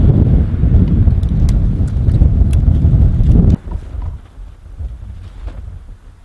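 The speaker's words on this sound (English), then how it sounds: "Oh, it's windy." Strong winter wind blowing outdoors at a camp, a loud low rumbling gust buffeting the microphone that drops off abruptly partway through to a quieter breezy rustle.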